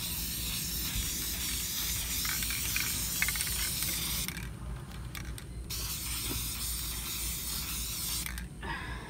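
Spraying around a new quail feeder produces steady, close hissing with mechanical creaks, interrupted by a couple of brief pauses in the spray.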